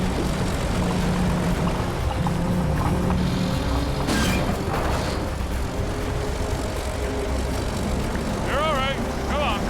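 A D9 bulldozer's 140,000 pound capacity winch hauls on 1.5-inch cable under throttle, a loud steady engine drone with a brief harsh burst midway, while people talk over it.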